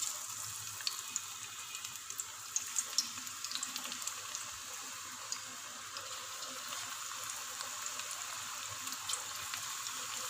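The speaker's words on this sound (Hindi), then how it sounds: "घी हमारा गर्म हो चुका है। चम्मच के साथ इसमें पकौड़े डाल रही हूँ।" Pakoras frying in hot ghee in a pan give off a steady, soft sizzle and crackle with occasional small pops, low in level and continuous, with no voices.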